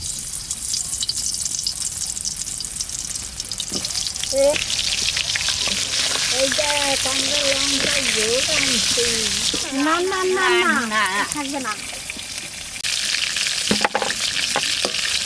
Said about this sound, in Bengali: পটলগুলো হালকা করে ভেজে নেব